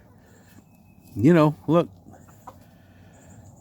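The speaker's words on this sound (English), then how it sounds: "These 2 roosters are starting to cackle together a little bit." Two roosters cackle in a short burst of two loud, harmonic squawks close by, followed by quieter background rustle, with a person speaking briefly.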